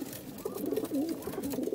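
Sialkoti pigeons coo close by, a run of throaty rising and falling coos, loud and continuous over faint background noise.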